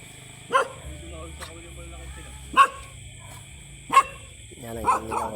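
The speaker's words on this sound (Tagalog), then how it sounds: "Asong malaki." A big dog barks three loud, evenly spaced single barks at night near water during a fishing outing, followed by a softer whine, against a low steady hum.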